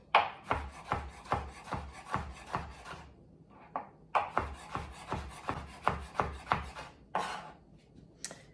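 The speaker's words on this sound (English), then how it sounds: "you can cut it into rounds like this, and then cut it into little matchsticks, and then dice it like this also" A knife slicing and dicing a tomato on a board, heard up close as a steady train of crisp, regular chops with one short pause midway, no talk over it.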